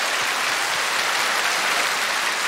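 Audience applause fills a KBS orchestra special show stage as the orchestra and its conductor are introduced, a dense, steady wash of clapping sustained and loud throughout, with no voices over it.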